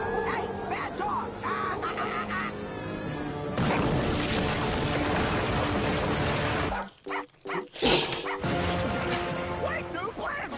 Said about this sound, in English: Hey, bad dog!